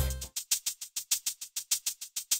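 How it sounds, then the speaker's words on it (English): A funky beat played by a character in the Sprunki music game: a tight, steady loop of crisp percussive hits, about five per second, bright and evenly spaced, heard alone after a brief lower tone at the start. "Ooh, yeah, that's a funky beat"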